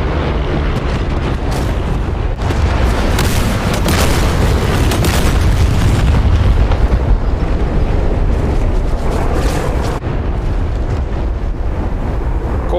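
Artillery shells landing in the WarGames video game's Iwo Jima battle: a continuous loud, dense rumble of heavy booms and blasts with wind-like roar throughout, swelling around the middle.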